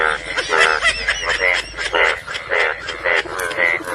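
Loud, rhythmic croaking sounds up close, a series of throaty frog calls repeating in quick pulses with no pauses.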